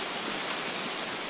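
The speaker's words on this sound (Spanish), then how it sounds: "¿Está lloviendo, Antonio?" Rain in the video game Escape from Tarkov, a steady dense hiss of falling water with no breaks and no voices.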